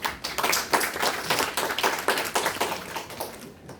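Scattered hands clap in an audience at a lecture on constitutional principles, a modest round of applause with individual claps audible, fading out by the end.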